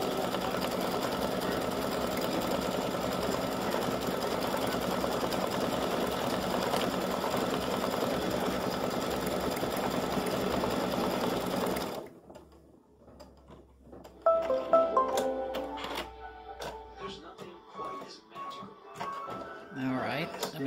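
Embroidery machine stitching a St Patrick's gnome design, a steady dense mechanical whir for about twelve seconds that cuts off into quieter clicks, thumps and handling noises, with speech heard in the clip.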